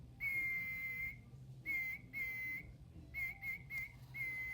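A Thomas and Friends Percy toy train plays a thin, high-pitched electronic whistle in several short bursts of uneven length, fairly quiet over a low background hum.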